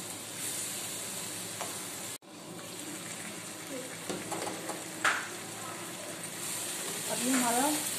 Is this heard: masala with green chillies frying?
yes